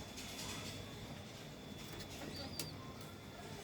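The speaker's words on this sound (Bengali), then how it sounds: "এটা হলো গিয়া আমার মেইন পেয়ার, এই কবুতরগুলো।" Pigeons on a small backyard pigeon farm give soft, faint coos against a quiet, steady background, with a brief brighter sound near the end.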